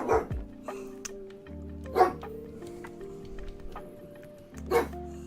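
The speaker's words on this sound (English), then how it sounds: "So those particular barks are because I can hear kids outside." A dog barks indoors at children passing outside the house: three separate sharp barks spaced a couple of seconds apart, fairly close and loud, over a steady low hum.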